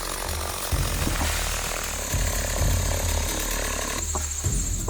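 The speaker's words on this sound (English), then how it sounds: "Initially, the trees are cut one after another using chainsaws." Chainsaws cutting trees in a forest clearing, a steady loud engine drone with rising and falling revs as the blades bite through wood, continuous throughout.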